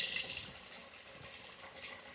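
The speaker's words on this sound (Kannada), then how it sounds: "ಒಂತೆ ನೀರು ಪಾಡು ನೋಡು" Water poured steadily into a cooking pot for boiling parboiled rice, a continuous broad splashing rush close by with no pauses and no voices.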